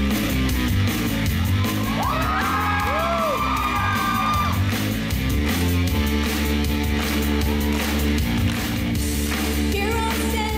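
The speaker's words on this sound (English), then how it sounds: "Please give a warm round of applause for Irulan." An anime convention crowd at a Sailor Moon 20th anniversary celebration panel cheers and whoops loudly and continuously, with shouts and yells rising over a steady roar, while music plays underneath.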